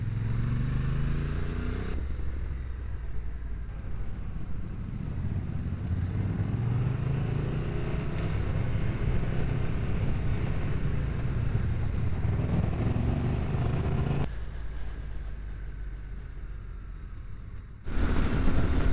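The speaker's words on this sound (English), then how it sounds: "even at speed, the wind blast from this screen in its low position isn't too bad at all" Steady roaring wind blast buffets a rider on a 2025 Honda NT1100 motorcycle at speed with the windscreen lowered, a loud continuous rush mixed with low engine drone, dipping briefly at intervals and swelling again at the end.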